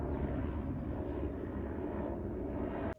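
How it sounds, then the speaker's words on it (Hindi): A helicopter flies overhead in a hill setting, giving a loud, steady low rotor and engine drone that holds level and then cuts off sharply near the end. "Helicopter helicopter."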